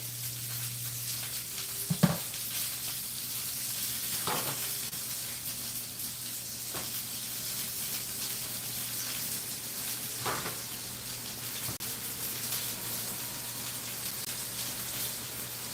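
Burger patties frying in a pan with a steady, even sizzle and hiss, a few soft clicks and taps of utensils now and then, close and moderately loud with no talking.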